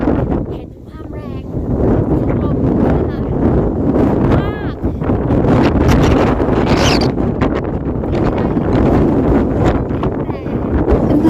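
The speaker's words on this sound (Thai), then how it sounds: "ลมมันแรงมากจริงๆนะคะ" Strong gusting wind at a clifftop viewpoint buffets the microphone with loud, surging rumbles and roar, while someone talks through it.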